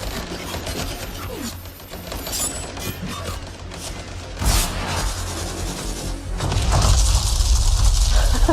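Gunfire in an open-world video game shooter, a busy mix of rapid shots, mechanical clatter and booming impacts that swell louder toward the end, with faint voices under the action.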